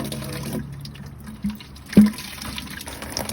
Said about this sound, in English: the coolant is draining from the radiator very quickly since Barbara took the radiator cap off